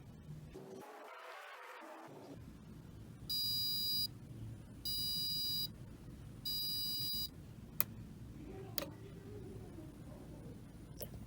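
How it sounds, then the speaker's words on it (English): An electronic alarm beeps in three short bursts, evenly spaced, each a steady high-pitched tone, with faint room noise and a few clicks afterward. "To silence the alarm, I press the button."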